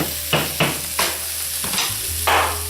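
A spoon stirs sushi rice in a pot, several short scraping strokes in an uneven rhythm over a low steady hum, close and fairly clear with no talking.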